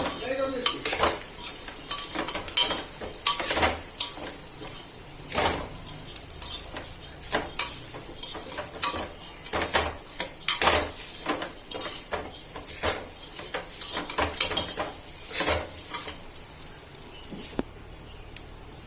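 Roasted dalia (broken wheat) being stirred in a hot pan with salt, chilli, turmeric and coriander: a steady run of scraping spoon strokes against the metal over a soft sizzle, continuing without pause and with no voices.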